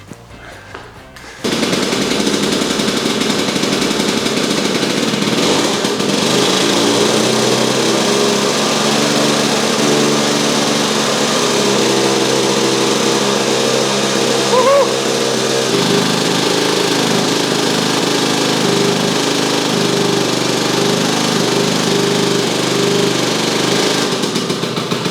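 A Lambretta scooter engine roars loud and sustained in a burnout attempt, a high buzzing rev held almost unbroken for over twenty seconds after a brief quiet start, with slight pitch shifts partway through.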